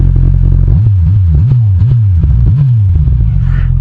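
A Kawasaki Z1000SX motorcycle engine idles loudly and steadily up close, its low rumble wavering up and down as the throttle is blipped a few times.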